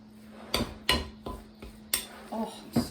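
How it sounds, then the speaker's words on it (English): Meatloaf being worked into a baking pan in a home kitchen, heard as five sharp metallic knocks and clatters of the pan spaced roughly every half second against a low steady hum, no voices. "we are ready to put this in the pan"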